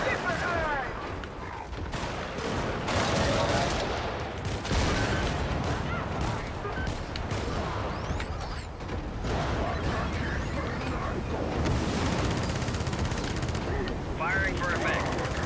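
Gunfire and artillery from the video game Helldivers, a dense, continuous barrage of shots and blasts that stays loud and steady throughout, with voices talking over it.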